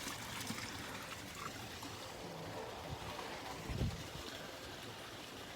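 Water runs into a water tank on a farm, a faint, steady trickling and gurgling wash with a brief louder splash partway through, no speech.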